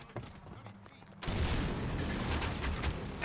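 Combat gunship firing in the video game Half-Life 2: after a quieter opening, a sudden loud, dense barrage of rapid gunfire and rumbling blasts starts and holds steady to the end, up close.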